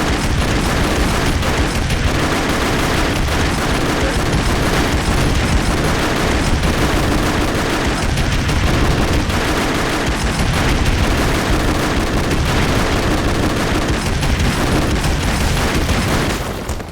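Dense, constant gunfire and explosions in the video game Hackfort, loud and continuous for the whole stretch, with booms and rapid shots blurring into one unbroken wall of game noise.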